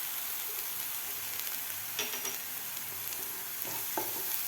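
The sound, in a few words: sautéing green masala paste on medium flame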